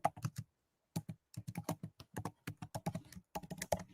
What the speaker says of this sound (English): I like the keyboard sound.